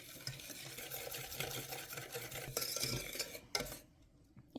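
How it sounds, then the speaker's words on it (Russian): A whisk or spoon stirs a condensed milk and milk glaze mixture in a bowl, a continuous close scraping swirl that ends with a final clink and fades to quiet, no voices. "Соединяем вместе и сюда же вливаем 100 мл молока. Перемешиваем максимально до однородности."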